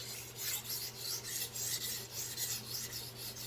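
A Victorinox 8-inch chef knife in Swiss steel is sharpened on Chosera whetstones: quick rhythmic scraping strokes repeat evenly, close and fairly quiet, over a steady low hum.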